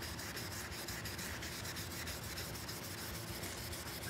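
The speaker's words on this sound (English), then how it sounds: "now I can take my sandpaper" Hand sanding car paint with sandpaper during color sanding for surface correction, a close, steady rhythmic scratchy rubbing of rapid back-and-forth strokes, with no talk.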